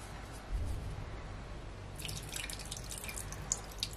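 Potash water poured into an abacha (African salad) mixture, a soft low slosh followed by light dripping and trickling splashes, quiet and close with no talking.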